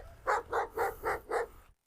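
An Anatolian Shepherd dog barks five times in a steady, evenly spaced series of fairly loud, close barks, then falls silent.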